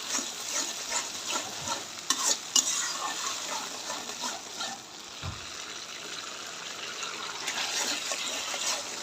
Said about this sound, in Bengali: মশলাটা ভালো করে কষাই নেব